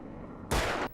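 A single heavy gunshot in the video game Alan Wake erupts after a quiet ambient bed, loud and broadband, sustaining with a short reverberant tail before cutting off.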